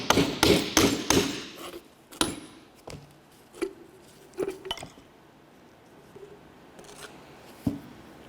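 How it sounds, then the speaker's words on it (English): A small hammer strikes a rear shock absorber mount on a 2004-2006 Scion xB to drive it off the shaft, sharp metallic clinks: a quick burst of several hits, then sparser single taps spaced out, close and crisp. "The next thing you want is a small hammer. Go ahead and give this a couple bonks to drive it off the shaft."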